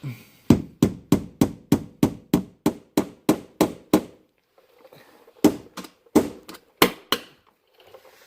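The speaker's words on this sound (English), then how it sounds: "all I got here is my little transfer punch and a little hammer" A small hammer strikes a metal transfer punch in a steady run of about a dozen sharp, close blows, then a pause and a few more spaced hits, during a 2007 Chrysler Aspen front suspension rebuild.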